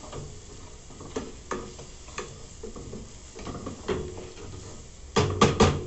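A spoon stirs a shrimp sauce just seasoned with saffron, making soft irregular scrapes and clicks over a low simmering sizzle, before a quick cluster of louder, harder strokes near the end.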